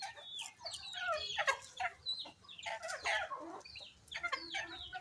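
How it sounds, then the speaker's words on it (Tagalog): Several chickens cluck close by in quick, overlapping bursts, with a few louder squawks breaking through and no talking. "Kulit ng mga manok ha."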